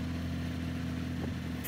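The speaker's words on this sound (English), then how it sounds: "Start it, ignition. There we go, it's running." A race car engine idles steadily right after ignition start, a loud, constant low rumble close by with no voices.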